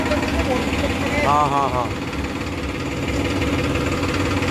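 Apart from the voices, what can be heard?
Farmtrac 45 tractor engine idling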